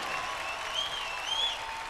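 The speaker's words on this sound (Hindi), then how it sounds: "अपन दोनों न्यायाधीश के एक बार पुनः जोरदार तालियों में सत्कार स्वागत बा" Dense, steady audience applause and crowd noise welcome the judges on a Bhojpuri TV singing competition, brief and continuous with a faint whistle over the clapping.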